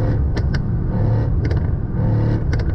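A Mercedes-AMG E63 S petrol engine idles with a low rumble while sharp exhaust crackles pop in quick bursts, like rapid gunfire, close by.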